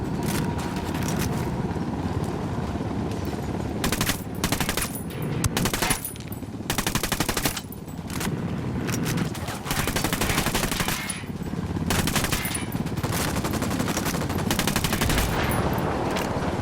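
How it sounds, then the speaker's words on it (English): Dense automatic gunfire in the video game Ghost Recon Wildlands, with enemy troops shooting from a hotel: loud, sustained bursts of rapid machine-gun fire broken by brief pauses, with no talk. "United's firing from the hotel."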